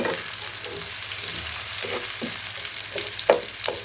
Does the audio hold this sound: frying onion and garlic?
yes